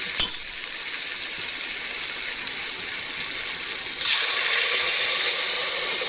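Hot water is poured into a spiced mixed-vegetable curry that has been frying and stirring in the pot for a Makar Sankranti bhogi dish. A steady hiss and sizzle runs throughout and grows louder and brighter partway through.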